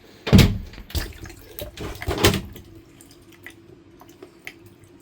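Water poured down a drain with a problem, a few heavy splashing gushes and thuds early on, then fading into faint trickles and drips, close and fairly loud.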